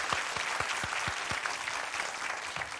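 Studio audience applause on a 1980s television game show, steady clapping from a crowd for about three seconds with no talking over it.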